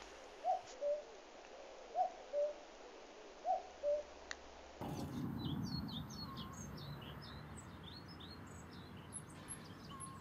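Two-note common cuckoo calls repeat four times, soft and distant, followed by a noisier stretch full of chirping birds, in Portland on an island.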